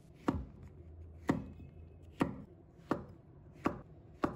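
Knife dicing shiitake mushrooms on a cutting board, six distinct, evenly spaced chops with sharp thuds, close and clear over a quiet background, no talk.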